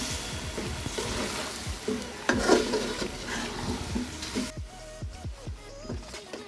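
Beef with bitter gourd and potatoes being sautéed in a pan: loud spoon-scraping and stirring strokes over a bubbling sizzle, with clanks of utensil on metal, close and busy, tapering off near the end.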